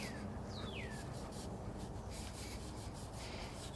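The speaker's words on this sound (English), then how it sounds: "we're just going to keep rubbing this like the directions said until we don't get any more brown residue coming off" A cloth or pad rubbing a GM truck frame to strip factory wax-dipped coating residue and brown corrosion, a soft continuous scrubbing close by and fairly quiet, with a couple of faint chirps in the background.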